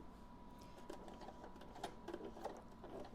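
Sewing machine stitching a slow zigzag around a fabric corner, a faint, close mechanical whir with light irregular needle ticks, no voices heard.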